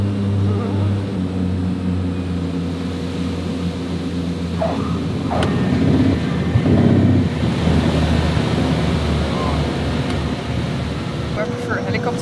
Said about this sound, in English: here we are landing